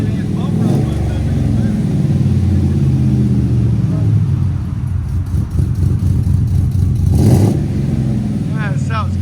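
A cammed Chevy/GMC 5.3L V8 with headers and aftermarket exhaust: a deep, continuous, loping rumble close by that surges slightly in places, with people talking over it.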